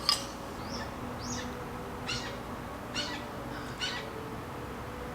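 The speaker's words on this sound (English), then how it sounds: "Bird activity is beautiful, and it makes me feel at peace." Birds call outdoors in the early morning, a handful of short, fairly faint chirps and squawks spaced out over soft background ambience.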